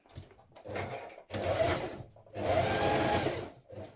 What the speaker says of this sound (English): So we're doing lines of reinforcement stitching.